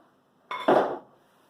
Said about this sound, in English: So we slice our conkers and then we're going to put it in a pan